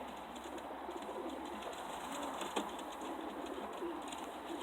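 Homing pigeons coo softly during a pigeon toss, over a constant low rumble of background noise, with one brief sharper sound midway.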